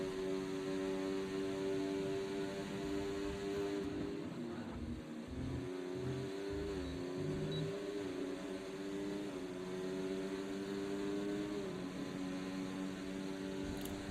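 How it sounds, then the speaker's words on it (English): A race car engine in an online F7R sprint race, heard as a steady, droning engine note with rising and falling revs and harmonic tones, loud and continuous without talk. "you can't hear me above the sound of the engine"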